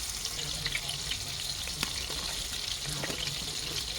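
Salisbury steak patties browning in a frying pan, a steady, continuous sizzle of meat in hot fat, close and even throughout with a couple of faint clicks.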